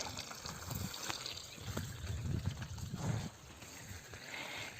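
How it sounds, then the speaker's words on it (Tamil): Water trickles and gurgles quietly along an irrigation channel in a sorghum field, a soft uneven flow with low bubbling, fairly close and faint. "தண்ணி இங்கே மெதுவாக தான் வருது"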